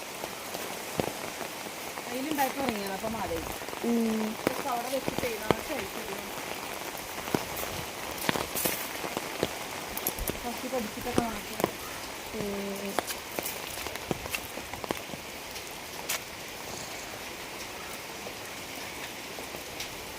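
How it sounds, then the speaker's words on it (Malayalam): Rain patters steadily on a surface with scattered sharp drips, while faint voices murmur in the background. "ഇതാ മഴ കുറഞ്ഞു"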